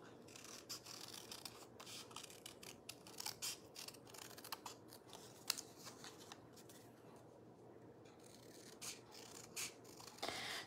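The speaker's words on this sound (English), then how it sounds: "all we're gonna do is just fussy cut this out" Scissors snip steadily through paper during fussy cutting, making close, quiet rustling and repeated cutting strokes with a few brief pauses and no speech.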